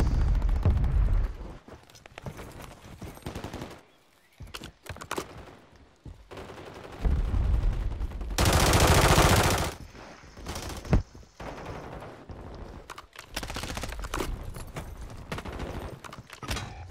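Gunfire in Call of Duty: Warzone Resurgence, with bursts and single shots at varying distance, some loud close volleys and quieter gaps, under occasional faint game noise.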